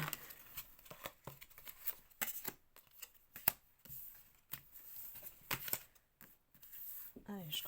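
Tarot cards shuffled and handled close by in a riffling, papery patter with short bursts and pauses, while someone speaks French intermittently over them.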